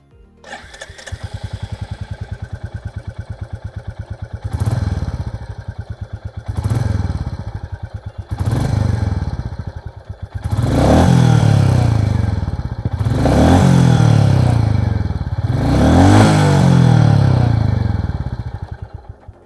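A new Royal Enfield Bullet 350 single-cylinder motorcycle fires up into a close, deep thumping idle, then takes a series of sharp throttle blips, the last three longer and louder, each dropping back to a bassy idle.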